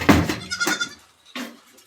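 In a goat shed, goats give a few loud, close bleats, two quick calls followed by a shorter one after a brief pause.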